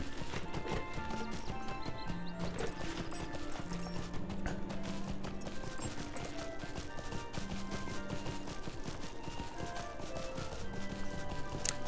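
Horse hooves clip-clop steadily along a road in the Trollshaws of the Lord of the Rings Online game, a brisk repeating rhythm with an occasional whinny, set against a continuous background of music and ambient sound.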